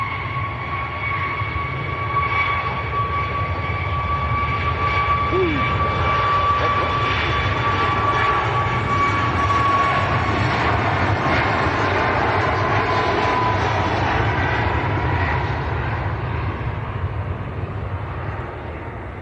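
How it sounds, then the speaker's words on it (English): Ryanair jets landing and taking off at Manchester Airport, a sustained loud engine roar with a steady whine, heard from a distance and gradually fading toward the end. "You've got a Ryanair landing and a Ryanair taking off."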